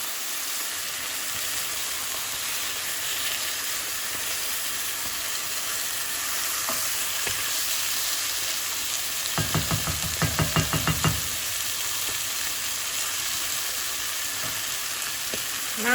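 Chicken fries in salted butter in a pan, giving a steady, even sizzle throughout, with a short burst of rapid crackling and popping partway through, close and without talk.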